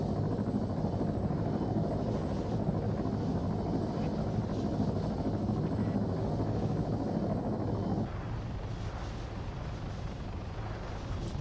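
Helicopter rotor drone in the game Arma 3, a steady broad roar that holds loud for about eight seconds, then drops to a thinner, quieter hum.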